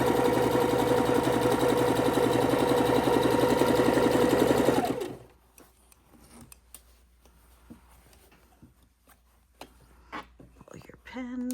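A sewing machine stitches quilt fabric for a king-size quilt in a steady, close whirring run of about five seconds, then stops, leaving quiet handling rustles and small clicks.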